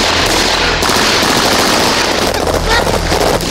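A military team lays down rifle fire at a sniper on a rooftop, with a dense, loud crackle of rapid shots running throughout and a voice partly heard under the shooting.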